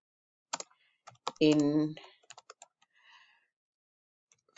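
Sparse, soft key clicks come from typing on a computer keyboard in a quiet room, with a brief spoken word between the taps.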